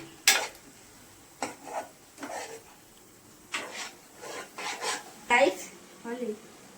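Chili powder and salt being stirred into eggs for a fry, giving a run of short scraping and rubbing strokes against a bowl, fairly close and moderate in level, with faint speech in the background.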